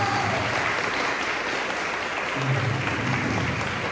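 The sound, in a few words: applause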